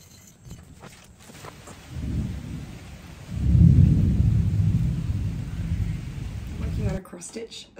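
A thunderstorm in Bali brings a long roll of thunder, swelling from a soft rumble to a loud, sustained peak before cutting off, with rain hissing steadily underneath throughout.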